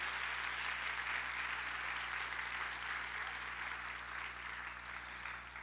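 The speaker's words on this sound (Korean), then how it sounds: "우리 학생들 또 수고하신 간사님들 위해서 박수 한번 드릴까요?" Steady, moderately quiet applause from a young adults' church service congregation for graduating discipleship training students and their staff, an even wash of clapping that continues throughout.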